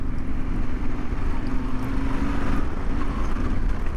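A Yamaha Ténéré 700 adventure motorcycle ridden off-road gives a loud, steady engine drone with rough broadband noise, close by and without any talk.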